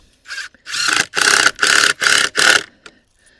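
A power driver runs a screw into wood on a cold frame base in five or six close, loud whirring bursts of about half a second each, separated by short pauses.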